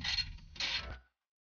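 A 10mm skid plate bolt on a Nissan Xterra is worked loose with a tool, giving two short, close creaking ratchet bursts before falling silent.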